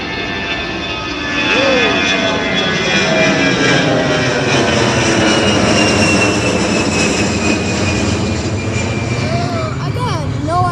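An Airbus A320 jet climbs out over Miami International Airport, its engine roar swelling and holding loud and close throughout, with a person talking underneath the steady rumble.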